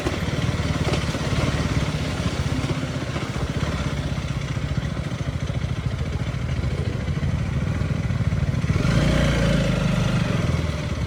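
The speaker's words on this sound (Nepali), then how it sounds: "हाम्रो चल्दैछ यहाँ बाइक सफारी" Motorcycle riding on a bike safari on the route from Kathmandu to Dhorpatan, a loud, steady engine drone with a rumbling buzz that goes on throughout and swells slightly near the end.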